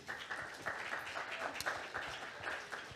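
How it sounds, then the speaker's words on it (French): Audience applause at a seminar on sustainable agriculture as speakers come on stage, soft steady clapping from a room of people, fairly distant and even throughout. "sous vos applaudissements nourris et enthousiastes"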